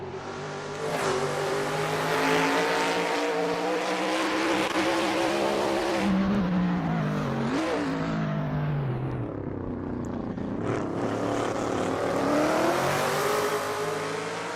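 Trans Am race cars at Road America pass close by, engines revving and downshifting in rising and falling sweeps, loud and continuous with a sharp flyby surge near the middle.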